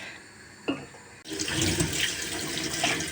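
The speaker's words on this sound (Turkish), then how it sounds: "Bir güzel yıkıyoruz mercimeğimizi." Lentils are washed under a kitchen tap; after a brief knock, the water gushes on steadily, splashing and rushing close by with no talk.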